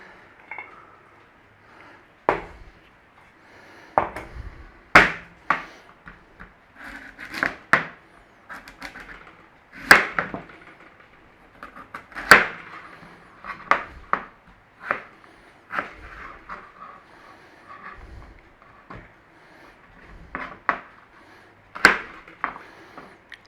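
Knife chopping parsnip into sticks on a cutting board, a sharp irregular series of close, crisp thuds separated by short quiet gaps.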